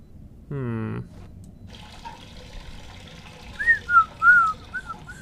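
Video game whistling in Fahrenheit Indigo Prophecy Remastered: a short tonal burst, then several clear rising and falling whistles near the end, close and fairly loud over a quiet background.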